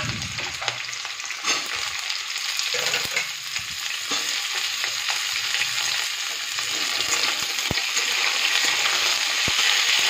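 Beans frying with potatoes in a hot wok, a dense, continuous loud sizzle punctuated by sharp scrapes and knocks of a stirring spoon throughout.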